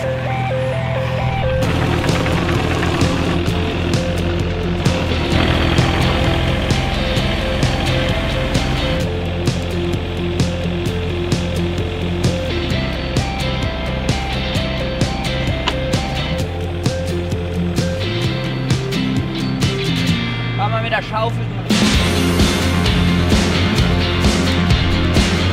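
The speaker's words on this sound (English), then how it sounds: "my brother's going to drive the excavator today" An excavator digs a ditch in rural ground, its diesel engine droning loud and close throughout while hydraulics whine and metal parts clank and rattle.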